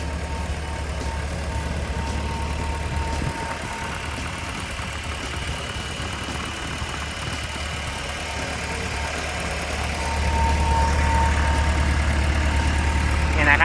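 A Komatsu PC120-8 12-ton excavator's engine idles steadily up close under the raised hood, a constant low diesel drone that grows slightly louder near the end.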